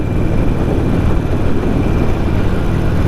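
A Harley-Davidson motorcycle cruises at about 60 mph with a constant loud engine drone, heavily mixed with wind rush, close and continuous with no break.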